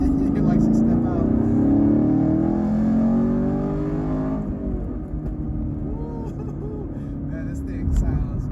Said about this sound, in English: That V8 sounds awesome